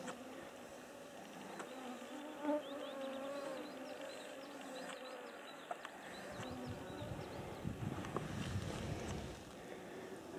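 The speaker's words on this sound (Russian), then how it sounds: "Вот северная пчела. Что-то она какая-то шустрая, видимо, тепло." A northern bee buzzes outdoors on a warm day, a faint near drone over steady wind noise and rustling of a hike through forest.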